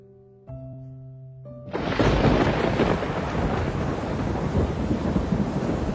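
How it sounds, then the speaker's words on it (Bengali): Heavy rain pours down with a deep, rolling thunder rumble, loud and dense. A brief sustained musical tone comes first, then the rain bursts in and continues steadily. "যা ঝমঝম করে বৃষ্টি পড়ছে"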